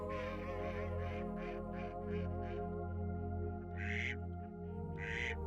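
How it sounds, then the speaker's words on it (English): Water birds such as ducks and geese call in Doñana national park, Spain, with repeated faint squawks and honks over a steady droning background. "Water birds flock here in tens of thousands."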